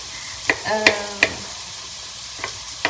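Onions and chillies fry in a pan while a utensil stirs them. Several sharp scrapes and clinks cut through a soft, close sizzle, with no voices.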